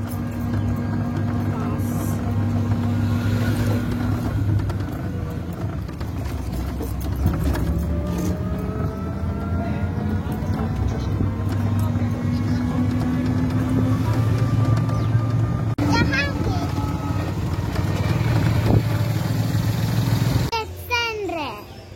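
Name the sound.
riding in a toto (electric rickshaw)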